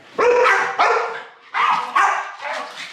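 Two dogs bark at each other in four loud, close bursts, sharp yips alternating with brief pauses between them.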